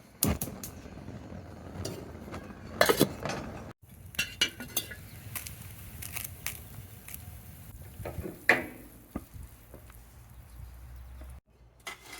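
Metal parts of a C Grade No 1 Mk III rifle lifted from a pot after boiling, giving scattered close clinks and clanks with sharp metallic knocks and quiet handling noise between them.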